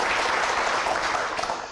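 An audience applauds steadily to welcome a speaker at a talk on aviation safety, a dense wash of clapping that begins at full strength and tapers slightly at the end.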